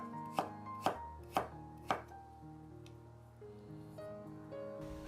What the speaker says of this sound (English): Julienne some carrot